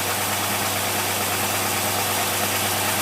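A racing engine with a Holley 850 double-pumper carburetor idles steady and loud, with constant rumble and broadband roar, unchanging throughout with no voices.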